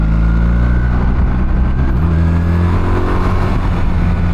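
A BMW R1300RT motorcycle engine drones loudly and steadily, then its pitch shifts abruptly midway as the automatic gearbox downshifts during an overtake and the revs jump, with continuous road rumble underneath.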